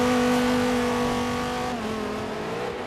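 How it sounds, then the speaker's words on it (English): A Corvette Racing ZR1's V8 engine, from a racing video game, holds a loud, sustained, high-pitched scream close up, with the pitch dipping slightly near the end. "as you can tell by that screaming V8 engine"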